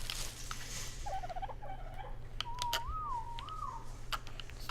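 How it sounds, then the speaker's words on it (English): A character's whistle in the ARK survival video game, a few short wavering whistled notes followed by a longer sliding tone, heard close over a low game hum with faint clicks. "Hey, why'd you whistle?"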